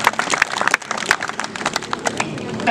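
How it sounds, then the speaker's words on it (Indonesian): A group of people, apparently at a school uniform tidiness check, claps in a rapid, uneven patter of many hands, moderately loud throughout with faint voices underneath. "Ya, tepuk tangan dulu untuk perhatian."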